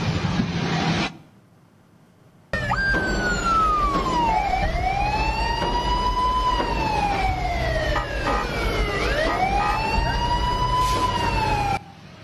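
An unauthorized siren fitted to a civilian minibus wails loudly and close, with sweeping rising and falling tones after a brief pause, over low road and engine rumble.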